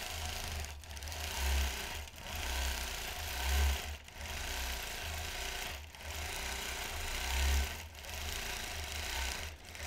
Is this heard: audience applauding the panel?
no